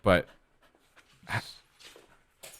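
A dog pants and whimpers near the microphone in short breathy bursts between quiet gaps, with a louder burst at the start and people talking faintly around it.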